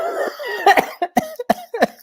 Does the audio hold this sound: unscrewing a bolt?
no